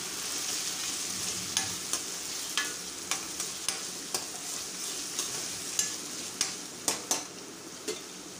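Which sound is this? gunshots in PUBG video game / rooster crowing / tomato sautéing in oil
tomato sautéing in oil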